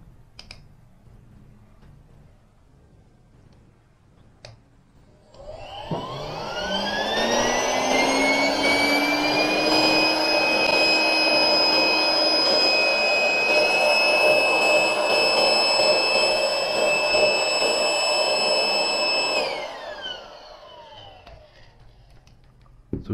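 A small USB-C electric air pump spins up with a rising whine, runs as a loud steady high-pitched motor drone for about fourteen seconds, then winds down and stops, with faint handling clicks before and after.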